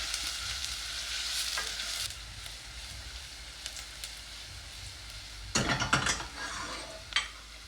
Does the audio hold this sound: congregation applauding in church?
no